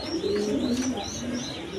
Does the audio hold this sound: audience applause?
no